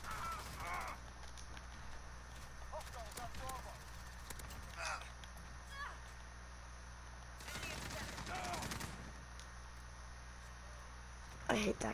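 Shotgun blasts from a 725 shotgun in a first-person shooter game, several sharp bursts spaced out over steady game background noise, with someone talking at times.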